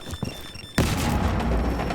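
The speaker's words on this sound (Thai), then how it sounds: "แล้วก็กดเดทเนตนะครับ ก็คือการระเบิด" Flores's remote drone in Rainbow Six Siege detonates with a sudden loud boom that breaks a quiet lead-in, then rumbles on as a dense, crackling roar to the end.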